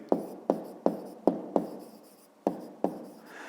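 A pen taps and scratches on paper while numbers are written, seven short distinct strokes spaced at uneven intervals, close and quiet with no talk.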